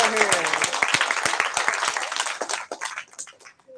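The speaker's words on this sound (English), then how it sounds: "Let's give Dr. Siegel a hand" An audience applauding for Dr. Siegel at a library talk on space telescopes, a burst of close clapping mixed with a voice and crowd noise, thinning out toward the end.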